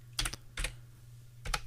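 Light clicking of keys on a computer keyboard, a short quick burst of taps, a pause, then another burst, faint and close with no talk.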